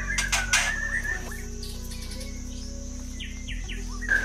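A captive white-rumped shama (murai batu) sings in short whistled phrases and chirps over a steady low mechanical hum, with a few bright notes near the start and fainter calls later.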